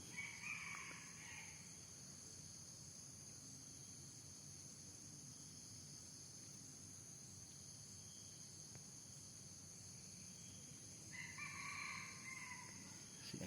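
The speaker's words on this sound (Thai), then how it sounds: "เสียงไก่ป่า" A distant red junglefowl crows at the start and again near the end, faint against steady insect buzzing in a quiet outdoor setting.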